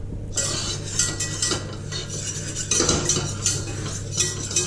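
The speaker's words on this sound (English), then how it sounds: "whisking your flour. You don't want any lumps." A whisk beats flour into milk for a béchamel in a pan, giving a steady, continuous scraping and clinking of metal against the pan, close and alone over a low kitchen hum.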